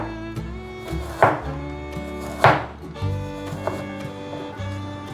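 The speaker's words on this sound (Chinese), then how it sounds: "把姜切片" A knife slices fresh ginger on a cutting board in a home vegan kitchen, giving three distinct, well-spaced cuts over steady background music, with no talking.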